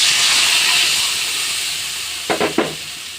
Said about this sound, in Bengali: এখন আমি মাছ ভাজার যে তেল ছিল মাছ ভাজলাম পটল ভাজলাম এই তেলের ভিতরেই এই মশলাগুলো দিয়ে দেব